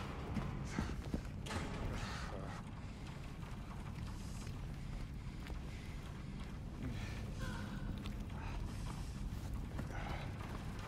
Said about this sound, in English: The footsteps and the gasps are all ambiance noises that are supposed to spook me.